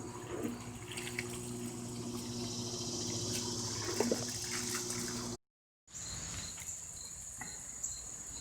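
Water runs steadily into a tub, filling it for the rinse of freshly tie-dyed fabric. The soft, continuous rush is heard alongside chirping crickets and briefly cuts out partway through.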